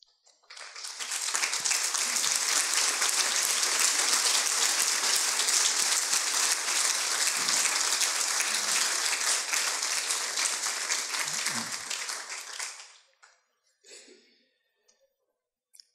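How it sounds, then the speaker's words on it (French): A hall audience gives sustained applause for a standing ACPA delegation of about ten members, dense and steady for around twelve seconds before fading out, with a few scattered claps and small noises after it. "J'aimerais bien qu'ils se lèvent et que nous les applaudissions"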